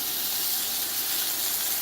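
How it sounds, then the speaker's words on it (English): Beef cheek searing in hot olive oil, a loud broad hiss of frying and steam held steady and close for under two seconds, with no talking. "watch it's gonna immediately sear as soon as I put in"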